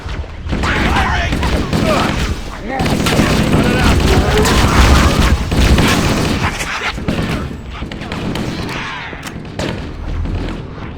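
Heavy gunfire and explosions in the video game Halo: Combat Evolved, loud rapid bursts and booming blasts mixed with shouting voices and battle noise throughout.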